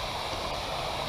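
Steady rush of a waterfall in the outdoors near Gaffney, South Carolina, a dense, continuous roar of falling water heard up close with no pauses.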